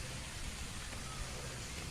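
Steady broadband hiss of typhoon rain falling, constant and even throughout with no breaks, like a downpour on surfaces close by.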